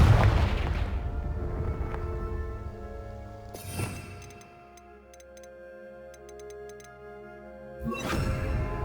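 A Confringo explosive spell in Hogwarts Legacy goes off as sharp booming blasts, one near the start and another around the middle, then a third at the end, each decaying into a ringing, ticking tail.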